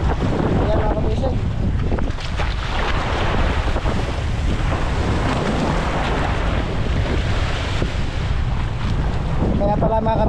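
A service boat rides through big waves in strong wind, with continuous roaring wind buffeting and crashing water surging throughout, loud and close.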